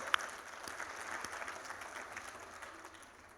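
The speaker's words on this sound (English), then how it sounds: "You can clap for it." Educators at a national leadership summit applaud from a distance, a faint, steady wash of clapping filling the large room for several seconds.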